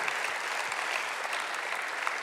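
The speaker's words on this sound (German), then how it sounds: "Und diesem Gott geben heute Abend einen Applaus." Faint, steady applause from a church congregation during an evening service, even clapping at a distance without voices over it.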